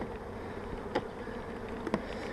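Honey bees at an open beehive during a spring hive inspection, giving a steady, dense buzzing hum with a couple of faint knocks, and no voices.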